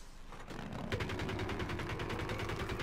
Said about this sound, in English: Shooting away, I think it's the Vanquished pea shooters